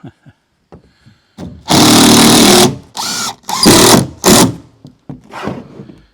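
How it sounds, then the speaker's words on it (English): Power drill driving screws into the wall of a vardo wagon, sounding in a long whirring burst followed by two shorter runs and a final brief one, close and loud, with small knocks before and after. "So I'll screw these off all across the top."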